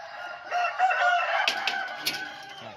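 Chickens on a Thai farm, fowl kept under mosquito nets in their pens, crowing and clucking at close range, with a couple of sharp clicks and knocks partway through.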